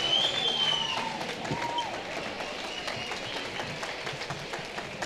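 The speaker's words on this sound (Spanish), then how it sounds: "un fuerte aplauso para ellos" Applause from an audience at a FIRST LEGO League closing ceremony held at a university, steady scattered clapping throughout at moderate distance with faint crowd noise beneath.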